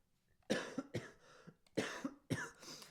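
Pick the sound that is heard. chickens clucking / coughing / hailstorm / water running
coughing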